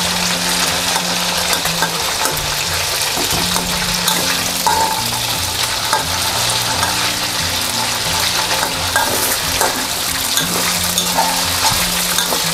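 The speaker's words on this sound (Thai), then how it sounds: "แล้วจะทอดจนกว่าเขาจะเหลืองนะเราทอดจนเหลืองนะ" Chicken frying in a pan of oil until golden, for a stir-fry with three-colored chili, gives a steady, loud, close sizzle that runs unbroken, with scattered stirring clicks and a low tonal hum underneath.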